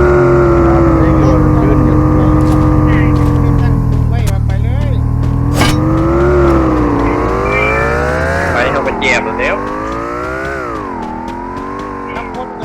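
A car engine driving in the video game Free Fire, a loud continuous motor drone rising and falling as it revs and shifts, with voices talking over it throughout.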